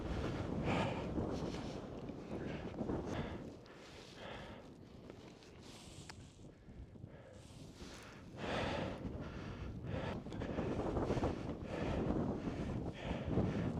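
Gusty wind roars steadily against the microphone on Mount Khustup, Armenia, swelling and dropping in waves, with faint crunching footsteps beneath and no talking.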